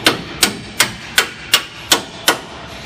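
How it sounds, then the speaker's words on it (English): A hammer taps a front strut bolt through on a 2004-2014 Ford F-150, eight sharp metallic strikes in an even rhythm about half a second apart, close and loud with no talking. "you can tap it through the rest of the way."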